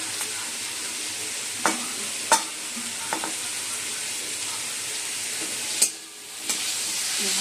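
Potatoes, pointed gourd and spices frying in fish oil in a pan, with a steady close sizzle throughout and a few sharp stirring taps and clatters.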